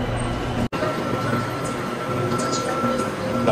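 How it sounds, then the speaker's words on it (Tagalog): Riding inside a BTS Skytrain carriage in Bangkok gives a steady rumbling, humming interior drone throughout, with a brief dropout near the start. No one speaks. "Sakay na ata tayo ng train."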